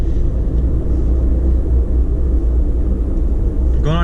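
A 2020 Toyota Tundra TRD Pro with the TRD exhaust pulls under load, giving a deep, steady rumbling drone heard from inside the cab that stays loud and constant, with a brief higher tone near the end.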